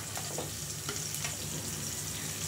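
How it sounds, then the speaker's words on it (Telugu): Sambar vegetables, including bottle gourd, drumstick and carrot, fry in a pan with a steady close sizzle while a spoon stirs and scrapes now and then, with no voices. "ఇప్పుడు మళ్ళీ సొరకాయ వేస్తుంది."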